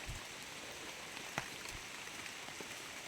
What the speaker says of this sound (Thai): นี่กับบรรยากาศฝนตกปอกแปกปอกแปกครับผม